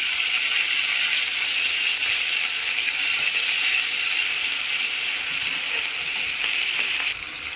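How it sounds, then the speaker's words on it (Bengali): Ginger and garlic paste frying in a pan for a Bengali taro stem curry: a loud, steady hiss of sizzling oil that carries on evenly, then drops a little near the end. "আদা রসুন দিয়ে দিলাম একটু ভাজবো এটাকে"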